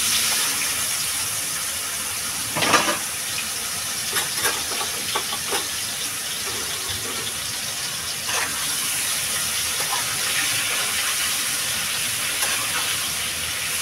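Mushrooms dropped into hot oil in a pan for a pea and mushroom curry, a loud steady sizzling hiss that runs throughout with a few brief louder crackles.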